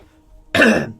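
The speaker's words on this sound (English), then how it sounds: "Sorry if I cough a little bit on the stream" A single sharp cough bursts out after a quiet moment, close and loud, then fades.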